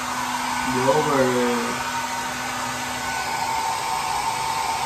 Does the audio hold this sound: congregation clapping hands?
no